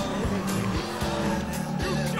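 A car in a video game drives with a revving engine hum, and brief tire squeals and skids rise and fall over it in quick succession.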